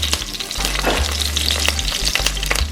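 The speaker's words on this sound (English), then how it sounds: "Give this a light stir. Trying to get all that flavor into the oil before we start the cooking." Ginger and seasoning sizzle in hot oil for brown stew chicken, crackling steadily and close while a spoon gives a few light stirs and scrapes.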